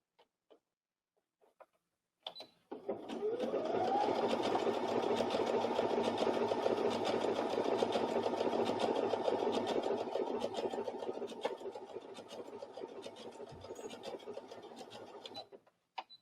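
A Brother SE1900 sewing machine overcasts a fabric seam edge, its needle whirring in a fast, even rhythm for about twelve seconds after a few clicks, then slowing and stopping, with no talking.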